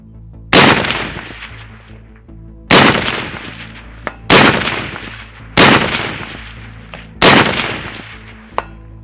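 Five sharp, loud shots from an M21 sniper rifle fired on a range toward 400-yard targets, spaced about one and a half to two seconds apart, each with a ringing echo that tails off.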